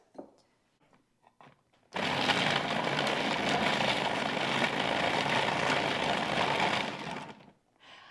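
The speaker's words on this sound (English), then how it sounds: "I'm going to put them right in the processor right now" A loud food processor chopping vegetables whirs steadily for several seconds after a few soft clicks, then cuts off and winds down; no talking.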